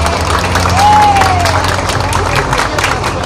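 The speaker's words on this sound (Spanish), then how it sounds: "Un aplauso para Elena Rodríguez." Audience applause welcoming a speaker at an evening event, steady clapping mixed with crowd noise and a voice speaking over it.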